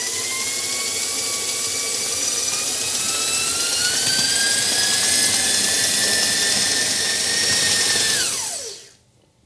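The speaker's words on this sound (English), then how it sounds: "So go crazy on beating it and getting lots of air in there so it's nice and light" A stand mixer with a paddle beats gluten-free cake batter at high speed, a steady, loud whine that holds for several seconds and then spins down and stops at the end.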